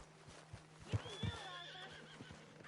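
A horse whinnies in Red Dead Redemption 2, with a drawn-out, wavering neigh at moderate distance over soft ambient game noise and a few low thuds, and no talking.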